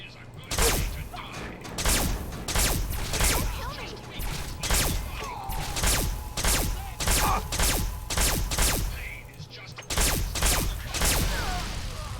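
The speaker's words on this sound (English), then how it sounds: "Right, so it's shotgun." Repeated shotgun blasts in Fallout 3, about a dozen sharp broadband bursts in a steady rhythm, loud and close, with game ambience between shots.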